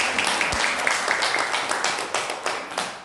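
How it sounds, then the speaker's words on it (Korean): A church congregation breaks into a short burst of applause, many hands clapping briskly and fading slightly toward the end, with no speech over it. "박수 한번."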